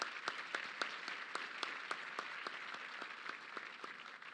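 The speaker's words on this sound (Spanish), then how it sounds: "Le damos un fuerte aplauso." Scattered applause from a small audience at a Smart City Expo keynote in Puebla, a few distinct claps repeating steadily over a low background wash, fairly faint and with no voices over it.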